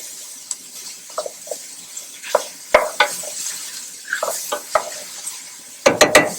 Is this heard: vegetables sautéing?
yes